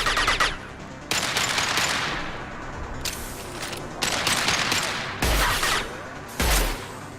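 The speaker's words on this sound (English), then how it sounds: "Firing a high-impact shot!" Heavy, high-impact gunshots from a futuristic rifle in the sci-fi video game Mass Effect 2, firing as several loud, booming blasts spaced a second or so apart, each with a crack and a long reverberant tail.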